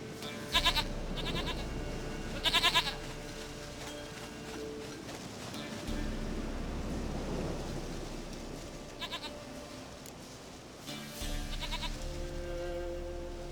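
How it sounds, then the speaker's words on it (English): Goat bleating in The Witcher 3: Wild Hunt video game, several separate nasal bleats spaced apart over a steady background of rain and distant thunder. "Goat of mine, dearest, sweetest goat."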